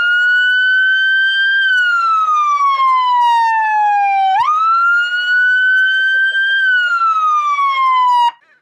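A Whelen emergency light system siren on a vehicle wails loudly up and down in long, smooth sweeps, close and continuous, before cutting off abruptly.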